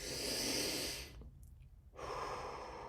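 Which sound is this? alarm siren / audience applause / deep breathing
deep breathing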